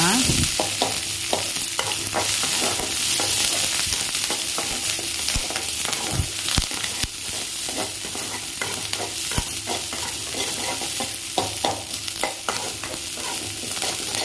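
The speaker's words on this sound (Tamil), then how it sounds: "நல்லா வணக்கி விடுங்க. கருவேப்பிலை கொஞ்சம் நிறைய போட்டுக்கோங்க." Curry leaves and large onions sautéing in a pan for pepper chicken fry, with a continuous loud crackling sizzle and frequent scraping stirs, close up with no talking.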